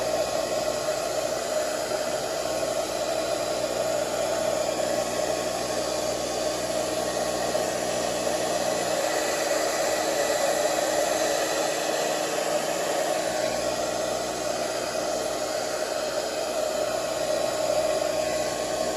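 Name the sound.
hair dryer blow drying a beard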